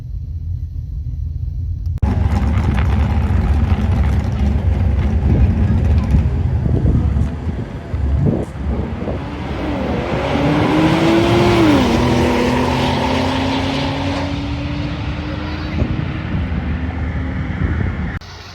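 A 2009 Pontiac G8 GT launches at a drag strip, a deep rumbling engine roar building into a long rising pull that fades at a distance, with voices talking in the background.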